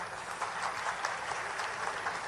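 An audience at a public event in Shahdol gives a steady, sustained round of applause to welcome Chief Minister Dr. Mohan Yadav. Dense clapping fills the whole stretch with no break and no voice over it.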